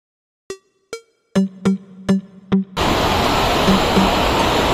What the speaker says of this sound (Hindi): अभी हम आपको दिखाने वाले हैं यहाँ का जो वाटरफॉल है वो।